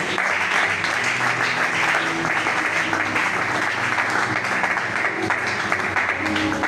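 Loud, sustained applause fills a church congregation, with dense, continuous clapping from many hands at an even level throughout and no voice rising above it.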